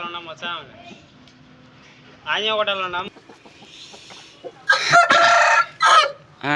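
A rooster crows loudly twice, a long drawn-out call then a second harsher one, with some quieter voices and background noise in between.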